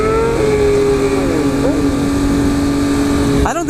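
A Triumph Speed Triple motorcycle engine drones loudly and steadily at a meetup with shifting pitch during a wheelie, with a brief rev near the end and a voice faintly underneath.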